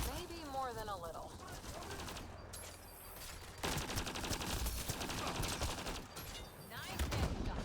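Gunfire from the Mass Effect Andromeda video game crackles in dense bursts throughout, mixed with game music and effects, with voices talking over the shooting.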